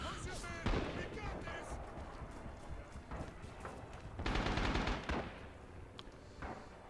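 Gunfire in the Rising Storm video game: a burst of sharp shots and rattling fire crackles over shouted voices, with a dense volley peaking midway before thinning out.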